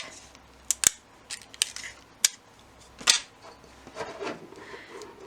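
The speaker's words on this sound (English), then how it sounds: "We're gonna take a little piece of tape" A small piece of tape is pulled and torn off while working on felt conversation hearts at a sewing machine, giving several short sharp rips and crinkles spread over a few seconds.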